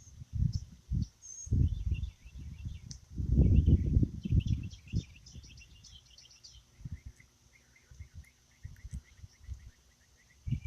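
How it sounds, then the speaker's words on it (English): Small birds chirp faintly in the distance in a residential cul-de-sac, scattered high tweets over low rustling and handling noise close by. "you listen carefully, you can hear the birds chirping."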